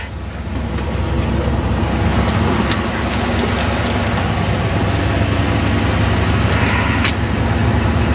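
A 1968 Buick Electra convertible's engine idling with its automatic choke engaged, a loud steady rumble close by with a few faint clicks and knocks on top and no one speaking.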